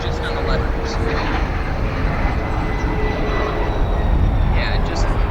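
An Embraer 170 regional jet passes at O'Hare International Airport, a steady broad engine roar holding loud and close throughout, with a faint high whine layered over the rumble.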